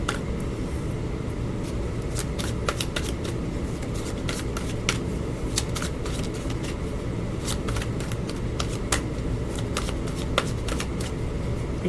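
Tarot cards are shuffled by hand in a continuous run of crisp, rapid riffling flicks and papery slaps, close and steady with no talking.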